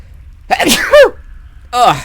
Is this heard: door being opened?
no